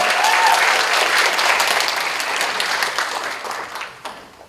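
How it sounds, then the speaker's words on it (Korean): An audience at a UN-Habitat youth day ceremony applauds as a singer from the Philippines is introduced, with dense, loud clapping that gradually thins toward the end. "큰 박수 부탁드릴게요"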